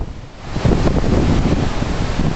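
Strong wind gusting at a boat dock during a spring storm roars loudly and steadily against the microphone, with surging buffets and no voices.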